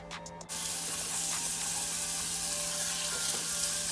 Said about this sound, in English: we're going to add our onions and saute those a little bit